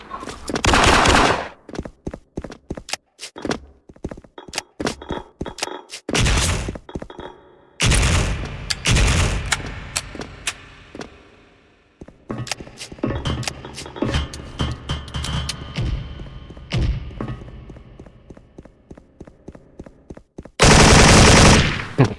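A G3A3 2nd Gen rifle firing in the shooter game Special Force: loud, close bursts of rapid shots, some long and dense, others short and choppy, separated by brief silences, with no speech over them.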